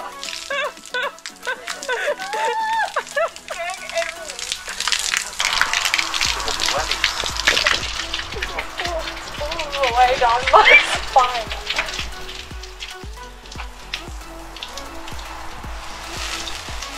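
Water washes down a sanded boat hull, a continuous hissing, splashing spray under someone talking, with dripping and gushing that swells and eases over the span.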